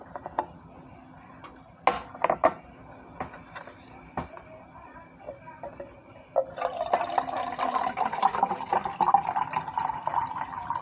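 Beef broth pours into an empty corn can, starting with scattered drips and clinks, then turning into a steady, close gurgling fill over the last few seconds.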